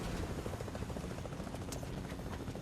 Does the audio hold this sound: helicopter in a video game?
yes